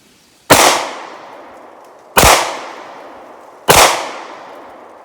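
Three loud, sharp shots from a Taurus G2C pistol at an outdoor range, evenly spaced about a second and a half apart, each followed by a short ringing decay with no talking.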